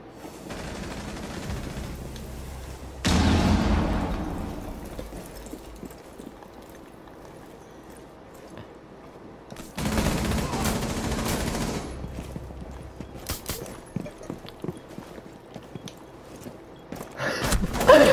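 Gunfire in Rainbow Six Siege comes as rapid bursts of automatic shots in two loud clusters separated by quieter stretches, with sporadic single shots and footstep-like clatter between them, no talking.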